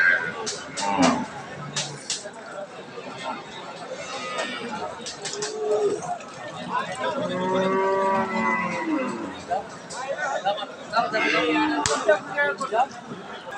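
A Sahiwal, Sindhi or Deshal dairy cow moos in a long, loud, close call at a cattle market, with people talking around it and occasional slaps and knocks.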